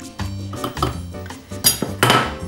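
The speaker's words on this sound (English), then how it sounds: "this is called muddling when a bartender does it, although admittedly he doesn't use a rolling pin" A rolling pin muddles gimlet ingredients in a glass, giving a run of close, irregular knocks and dull thuds with a few sharper clinks, louder toward the end.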